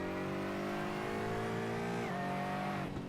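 An Aston Martin GT4 race car engine in a sim racing game at Spa-Francorchamps revs loud and close with a rising, slightly high-pitched tone, dipping sharply at a gear change before climbing again.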